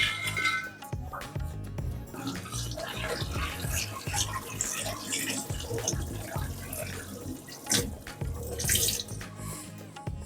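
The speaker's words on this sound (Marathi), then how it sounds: "मी आता ह्या निवडलेल्या सगळ्या भाज्या स्वच्छ धुवून घेणार आहे." Mixed vegetables for a traditional Maharashtrian Bhogichi bhaji rinsed under a running kitchen tap, a steady close splashing stream with occasional clinks of vegetables and a vessel, no talk.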